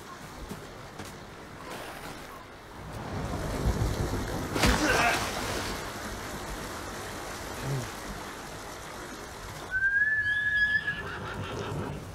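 In the Ghost of Tsushima video game, a horse lets out a neigh around the middle and another whinny near the end, heard over ambient outdoor game sound with some talk.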